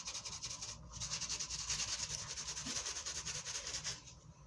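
Steady scrubbing on a Lotus bass guitar, a continuous close rubbing rasp with a quick back-and-forth rhythm that carries on unbroken for several seconds with no talking.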